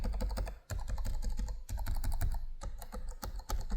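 Fast, continuous typing on an Asus ROG Scar gaming laptop keyboard, its thumpy long-travel keys striking in a dense, even rhythm, close and clear with brief pauses.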